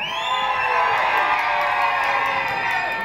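A holiday-camp audience at Pontins Southport roars and cheers for contestant number two, a loud, sustained mass of shouting voices and whoops, children among them, swelling steadily and never letting up.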